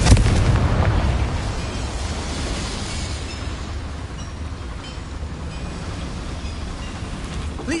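A Confringo fire spell explodes in Hogwarts Legacy, a loud booming blast that sets off a dense, rumbling wash of crackling debris, which stays steady and roaring for several seconds without any voices.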